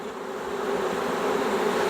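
A honey bee swarm drones in a steady, continuous buzz, close and fairly loud, with a faint rise in volume toward the end and no voices.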